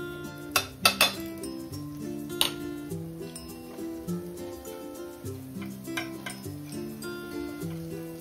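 Cashews and almonds roasting in ghee in a pan, stirred with a metal spoon that clinks and scrapes against the pan in close, uneven strokes over a faint sizzle, with no talking.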